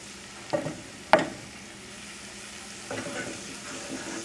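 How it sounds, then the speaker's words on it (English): Ingredients for chasseur sauce sauté in a pan, a low steady sizzle broken by a few sharp scrapes and clatters of stirring, quiet and close with no talk. "we're going to saute this"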